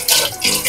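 Water is poured into a pot to make broth for a flat bilong-bilong fish dish, a short, close, loud splashing gush lasting under a second.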